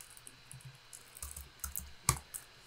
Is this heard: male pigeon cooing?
no